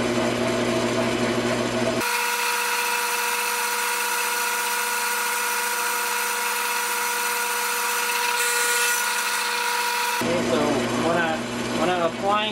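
A power drill bores into a front brake caliper bolt on an Alta Redshift SM electric motorcycle, giving a steady, close whine that runs for about eight seconds, with talk just before and after.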